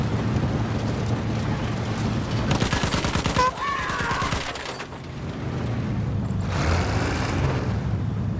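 Enemy gunfire in Battlefield 1, heard as bursts of rapid shots over a constant engine-like rumble and wind noise, fairly close and loud, in two separate volleys.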